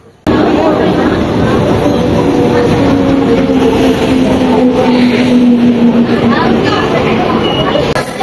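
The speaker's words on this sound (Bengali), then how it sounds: "তো বন্ধুরা এখন তোমাদের দেখতে পাচ্ছ ট্রেন চলে এসেছে।" A train pulls into Medinipur station in West Bengal, a loud, close, continuous rumble and rolling roar with steady tonal whine from the wheels, lasting throughout.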